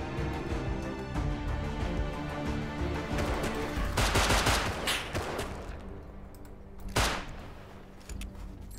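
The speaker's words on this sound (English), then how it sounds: "someone's shooting at me" Dense bursts of video game gunfire in Rust, rapid overlapping shots forming a sustained fusillade with heavier cracks near the end, loud and close with no talk.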